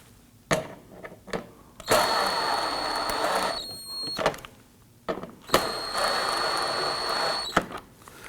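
A power driver runs screws in to fit a front license plate bracket on a Toyota Tacoma, with two sustained whirring bursts of about two seconds each, close and fairly loud, separated by clicks and handling knocks, with no talking.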